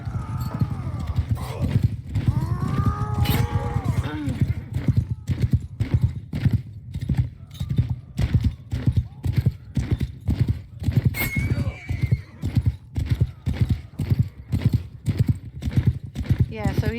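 A cavalry troop in the Mount & Blade II Bannerlord video game, with steady rapid clip-clop of many hooves throughout and several loud horse neighs and whinnies rising over the galloping, beneath a dense battle mix.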